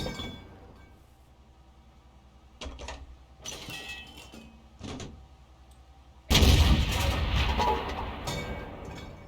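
Tank cannon blind shots in World of Tanks from a Strv S1 tank destroyer: a few sharp, muffled thuds spaced apart, then a loud blast with lingering rumble near the end.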